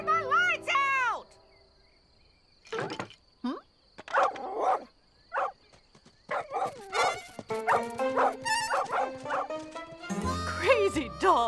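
A cartoon dog barks and yips in bursts, with whimpering tones, among excited character voices and chirpy music in a children's Lassie cartoon.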